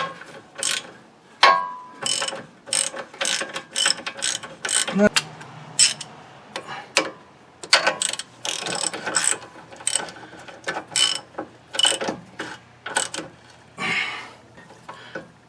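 A ratcheting wrench and breaker bar clicking as two nuts are tightened on the driveline of a Kia Sorento, rapid bursts of metallic ratchet ticks with brief pauses, close up and fairly loud.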